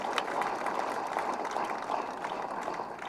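Crowd at a political rally in Tamil Nadu clapping, a steady dense patter of applause at moderate distance, continuing throughout.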